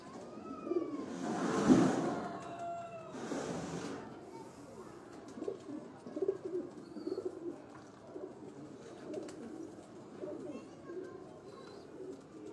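Pigeons cooing on a rooftop, soft low coos repeating through the background with occasional wing flutters and faint voices nearby, fairly quiet and outdoor.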